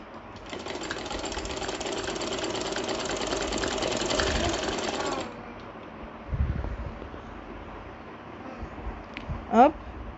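A sewing machine stitches the full sleeves of a ladies' kurti with a fast, even mechanical chatter lasting about five seconds, then stops, leaving faint handling sounds and a brief squeak.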